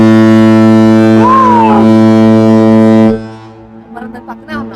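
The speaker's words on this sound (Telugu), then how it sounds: "మనం దాని పక్కనే ఉన్నాం దాని పైన ఉంది హారన్ అదిగో పైన ఉంది" A cruise ship's foghorn blasts very loud and close, a deep sustained tone holding for about three seconds before cutting off, while people exclaim and talk over and after it.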